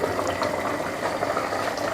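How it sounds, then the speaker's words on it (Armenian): Water boiling in a pot for pasta, a steady close bubbling and rolling simmer that holds evenly throughout with no voices over it. "Տեղը տեղին եռում է հավեսին։"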